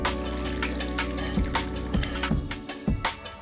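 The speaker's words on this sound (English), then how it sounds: "Next, our coffee." Coffee pours steadily into eggless chocolate cake batter that already holds coconut oil, a continuous close liquid stream with soft splashes, under faint background music.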